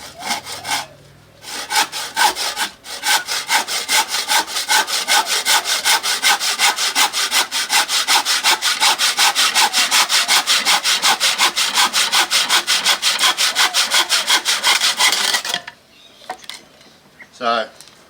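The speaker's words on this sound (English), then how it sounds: "So all your cuts you'll do with your Dota 2 saw." Hand saw cutting through wood for a home-built gym, a fast, steady back-and-forth rasp of strokes running continuously for about fifteen seconds, loud and close, ending abruptly with a few quieter knocks afterward.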